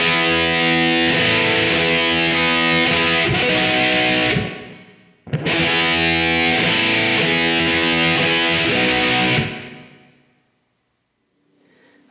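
Heavily distorted electric guitar plays a riff, two loud sustained chord phrases with choppy accents, each fading out, the second trailing into near silence.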